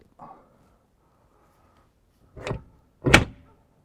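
A door being fitted to the cab of an Ursus C-360 tractor: a faint rattle, then two sharp thuds about half a second apart, the second louder as it shuts.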